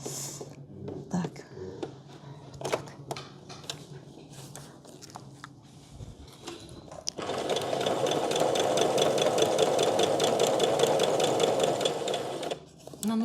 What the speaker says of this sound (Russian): И вот начинаю шить.